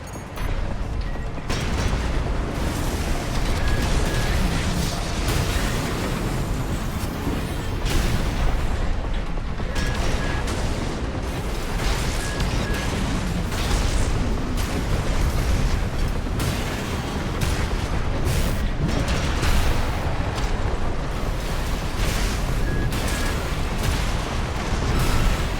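Continuous, dense roar of explosions and heavy weapons fire in the mech combat game Armored Core VI arena, loud and unbroken throughout with repeated booming blasts layered over a constant rumble.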